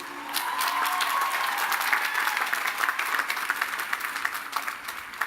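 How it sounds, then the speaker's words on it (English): Applause at a graduation ceremony for the graduates' families and friends, a steady wash of many hands clapping that runs the whole time, moderately loud and slightly distant in a large hall. "A big round of applause for them."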